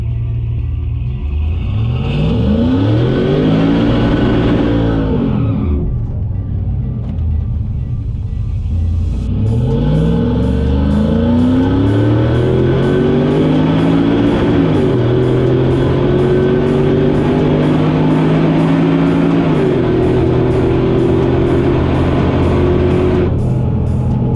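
A car on a drag strip launches and accelerates hard, the engine note climbing through gears with loud roaring sweeps and brief shift breaks, close and sustained, with a steady high whine on top and no talk.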